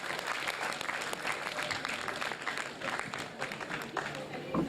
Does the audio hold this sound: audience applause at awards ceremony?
yes